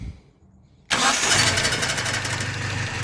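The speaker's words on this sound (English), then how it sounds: "start my engine." A hotwired Datsun 620 engine cranks and catches abruptly after a quiet moment, then settles into a loud, steady idle nearby.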